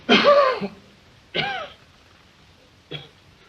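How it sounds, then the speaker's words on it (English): Three separate coughs from a man, the first a harsh, drawn-out hacking burst, then a shorter one, then a brief final cough, with quiet gaps between them. "Suppose you wait till he quits coughing."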